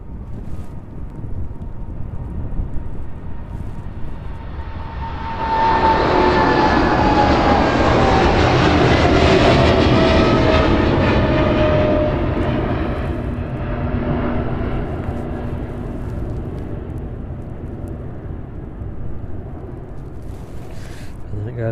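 A DHL Boeing 777 cargo jet departs East Midlands airport in the evening. Its engine roar swells loudly after a quieter start, holds strong with a falling whine, then gradually recedes into the distance.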